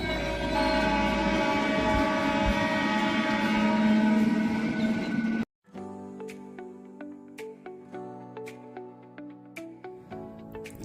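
A train at Nandi railway station rumbles loudly for several seconds, then cuts off abruptly, followed by a quieter stretch of sustained tones with repeated soft thuds.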